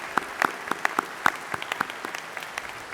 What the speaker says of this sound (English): So a big round of applause and thank you to them for helping me be here tonight.